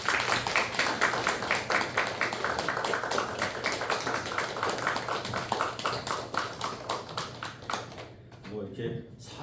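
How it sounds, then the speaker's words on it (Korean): A church congregation claps in a steady, rhythmic beat during a Sunday worship service. The clapping is close and continuous and fades near the end, with voices underneath. "박수 한번 해주시기 바랍니다."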